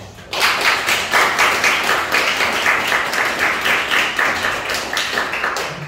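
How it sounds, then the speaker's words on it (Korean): Church congregation clapping in encouragement for volunteers who worked on the building, a close, lively round of many hands that starts abruptly and keeps up steadily with a slightly rhythmic pulse. "수고하셨다고 격려의 박수"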